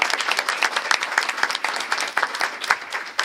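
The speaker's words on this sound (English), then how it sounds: "Let's give Jenny a round of applause real quick." Applause from a school board meeting audience for a senior girls basketball player, moderate and uneven with distinct individual claps, fairly close and without speech.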